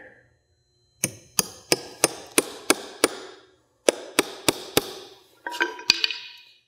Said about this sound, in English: I'm just gonna go ahead and drive another nail really close here.